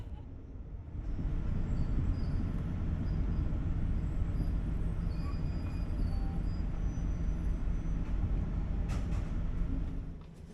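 A steady low rumble and rolling drone of an overnight train pulling into Bangkok's Krung Thep Aphiwat station, loud and continuous, easing off toward the end.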